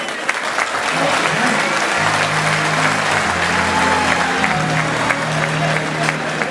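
Sustained applause from a crowd at a political rally in Paris, a dense wash of clapping that continues throughout, with a voice speaking over it partway through.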